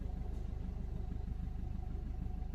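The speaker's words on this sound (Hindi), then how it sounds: "कार को मैंने स्टार्ट रखा है, काफ़ी समय से स्टार्ट रखा है" Maruti Suzuki Swift petrol engine idling after running for over an hour, a steady low rumble with an even, fast pulsing throb, close by and continuous with no speech.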